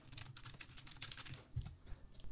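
Quick, light key taps on a computer keyboard as an email address is entered, a close, brisk run of clicks with brief pauses.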